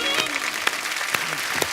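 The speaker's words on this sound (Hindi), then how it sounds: "अमान अली और अयान अली के लिए जोरदार तालियां।" A studio audience at a comedy talk show claps steadily for sarod players, a dense, even patter of many hands held close throughout.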